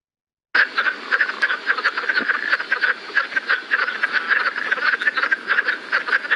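A frog with lateral vocal sacs calls in a freshwater wetland near the coast, giving a steady run of rapid, raspy croaking pulses, close and clear, with no talk over it.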